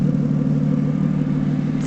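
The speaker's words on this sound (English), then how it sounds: "listen to that exhaust" A 2006 Aston Martin Vanquish S engine and exhaust holds a steady, loud, deep rumble close by, running at a constant pitch without changes in revs for the brief moment.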